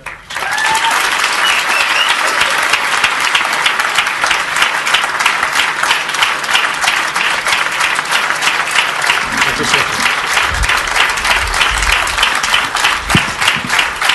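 An audience in Hungary applauds to welcome the founder of DXN onstage: sustained, dense clapping from a large crowd continues at steady loudness throughout, with a faint voice near the start.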